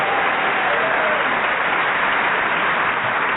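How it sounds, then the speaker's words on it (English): An audience at a live comedy panel show recording in Guildford applauds the pianist in a steady, dense wash of clapping that fills the whole short stretch. "Yeah, a round of applause for Colin."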